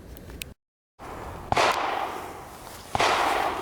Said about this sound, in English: we'll take this handgun and we're just going to shoot a bottle of Coke